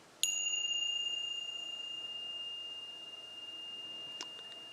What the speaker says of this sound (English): First bell is for the body.